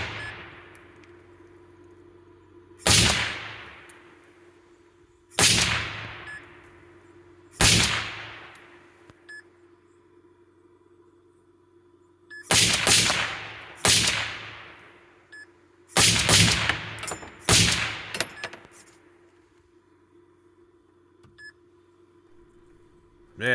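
Sentry TUR105 turret shots at a firing range, sharp loud single reports spaced a few seconds apart and then in quicker pairs, each ringing out briefly against a steady electronic hum.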